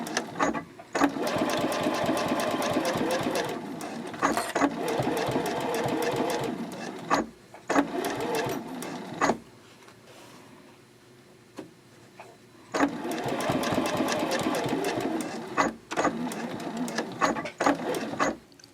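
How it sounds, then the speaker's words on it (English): A sewing machine stitches the lining of a boxy bag in several bursts of rapid mechanical chatter, with short pauses between runs and a longer quiet gap midway, close and clear with no talking. "Backstitch, and then I'll sew off to the end."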